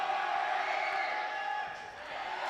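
A basketball crowd at a high school game against Canton roars steadily during free throws, a loud, sustained wash of cheering and whooping filling the gym at close range.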